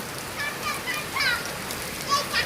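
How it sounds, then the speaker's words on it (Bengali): Steady outdoor rain makes a continuous even hiss, with scattered high chirps above it and a faint voice in the background. "বছরের শেষ বৃষ্টি"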